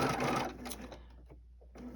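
A sewing machine stitches a quilt block seam in a fast, steady whir for about half a second, then slows and stops, with a second short burst of stitching starting near the end.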